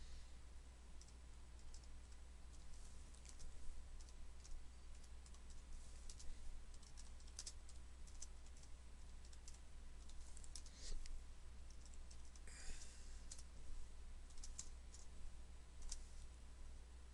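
Faint, steady computer-keyboard typing with irregular light clicks spread across the stretch, sitting under a constant low electrical hum, with no talking.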